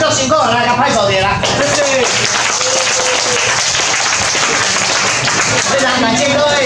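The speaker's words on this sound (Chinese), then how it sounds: "来，甲拍手者啦" An audience claps at a members' study meeting held in a restaurant, steady applause running throughout under a voice talking over it.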